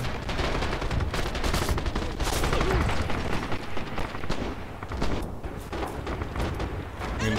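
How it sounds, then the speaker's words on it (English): Artillery shells and gunfire rumble through a Red Orchestra 2 battle on the Spartanovka map, with dense overlapping blasts and rattling shots sustained at loud, steady intensity throughout. "I think they're shelling the left."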